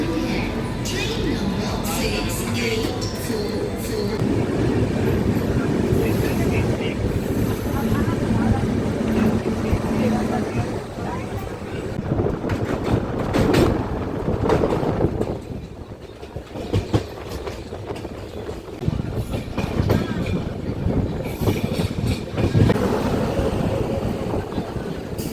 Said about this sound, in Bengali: ট্রেন এবার ভুবনেশ্বর ছাড়ছে